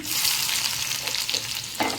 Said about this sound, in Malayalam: അപ്പം നമ്മുടെ കടുക് പൊട്ടിക്കൊണ്ടിരിക്കുന്നേ. അപ്പോൾ അതിലേക്ക് കുറച്ച് ഉള്ളി ഞാൻ ഇട്ട് കൊടുക്കുവാണേ.